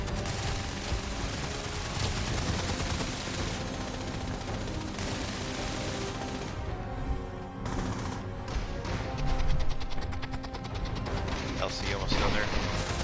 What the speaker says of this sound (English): We're taking fire from Protectron.